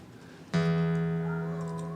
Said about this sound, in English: you'll have to indulge me while I retune just a little bit here